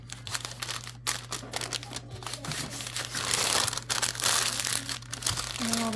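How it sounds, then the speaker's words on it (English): Wrapping being folded around a block of homemade butter, giving close, soft crinkling and crumpling rustles in irregular bursts with brief pauses, fairly quiet and with no speech. "And then I'm gonna fold it up."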